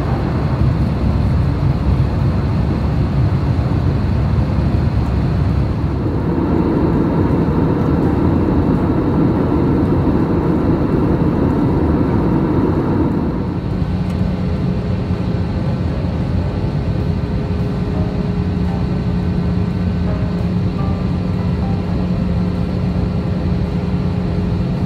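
Steady, loud engine roar and airflow hum fill the cabin of an EVA Air airliner on final approach into Taoyuan International Airport in Taiwan, with a shift in tone midway and no talking.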